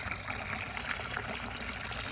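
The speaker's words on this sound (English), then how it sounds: "So filling this one here with some water." Water pours into a garden olla, a steady close trickling and gushing fill without pause and with no talk over it.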